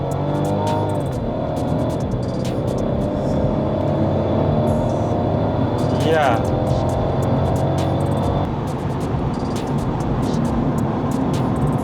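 A 2018 Mercedes-Benz C300 in Sports Plus mode pulls hard in second gear, its engine note climbing steadily and then dropping back near the end, heard from inside the cabin with a brief spoken word.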